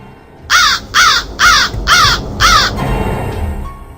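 A crow caws five times in a steady, evenly spaced run, each caw loud and close, followed by a fainter call against quiet background noise.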